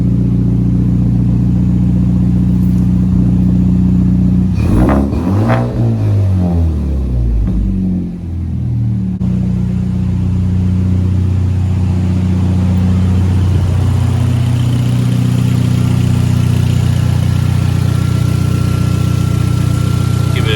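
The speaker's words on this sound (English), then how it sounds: "Give it a couple revs." A 2013-14 Hyundai Genesis Coupe 2.0T with a newly installed ISR exhaust idles with a deep, throaty rumble, then revs sharply a couple of times before settling back to a steady idle.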